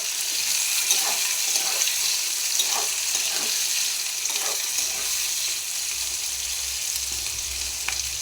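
Chilli chicken with chilli paste fries in a pan, a steady, close hiss of sizzling oil with a few soft stirring scrapes at intervals and no talking.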